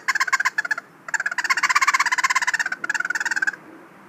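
A shaken squirrel hunting call imitates squirrel chatter, giving rapid, sharp, raspy pulses in quick bursts with short pauses, loud and close with no talk.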